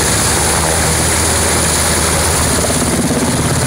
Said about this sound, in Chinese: 直升机驾驶以滞空救援方式成功把患者救援上机